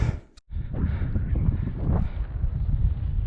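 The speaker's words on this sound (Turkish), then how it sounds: "Şimdi öyle bir esiyor ki aklınız durur." Strong wind gusts roar in the snowy Himalayan mountains near Annapurna, a steady loud broadband rush with low buffeting. It pauses briefly near the start, then blows continuously to the end.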